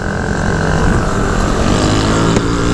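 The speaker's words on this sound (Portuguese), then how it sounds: "os caras tá acelerando, João" Shineray motorcycles revving and accelerating in a group ride, a loud continuous engine roar with wind buffeting the microphone, no speech over it.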